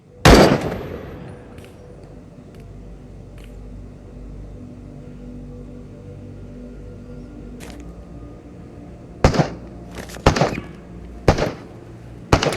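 Rifle gunfire in the VR shooter Into the Radius, fired at armored commando enemies with an SVD/PSL: one loud shot opens, a quiet stretch follows, then three or four sharp cracks come in quick succession near the end.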